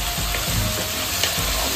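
Onions and a fish head frying in a pan for a Bengali meal, giving a close, steady sizzle and crackle with no talk over it.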